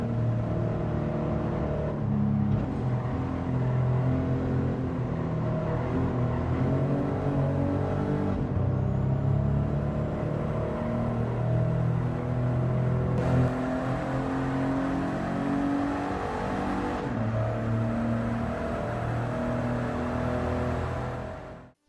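A small car's engine in Gran Turismo 7, rated 129 horsepower in a 1,192-kilogram car, drones and revs steadily for about twenty seconds with shifting pitch, loud and continuous, with no talk over it.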